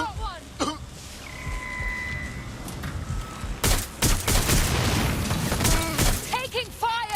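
Gunfire in the Watch Dogs Legion video game, bursts of sharp shots clustered through the second half, with voices and radio chatter around them.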